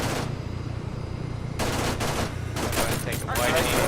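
Sustained automatic cannon fire from the military shooter game Arma rumbles loud and dense throughout, with sharper bursts of shots layered in toward the end.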